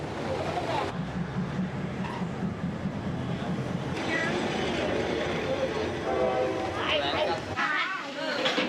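A train rumbles past with rattling wagons and a brief horn through a trackside market in Thailand, while people talk and bustle nearby; the noise thins out toward the end.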